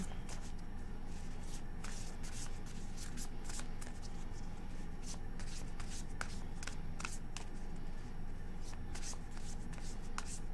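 Tarot cards being shuffled by hand, a dense run of quick riffling and flicking noises close up that continues steadily throughout, with no one speaking.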